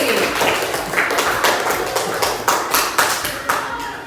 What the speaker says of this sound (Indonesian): Berikan tepuk tangan dulu untuk temannya supaya lebih semangat lagi.